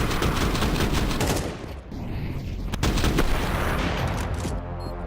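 Counter-Strike match gunfire as the bomb is planted and smoke fades: rapid rifle bursts and sharp single shots crackle loudly, with a brief lull in the middle before firing resumes, alone without talk.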